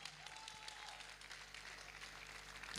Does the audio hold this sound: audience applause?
yes